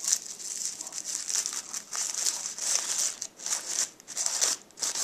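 Crumpled flying wish paper being unwrapped by hand, a close, steady crinkling and rustling with irregular bursts that swell and fade over several seconds.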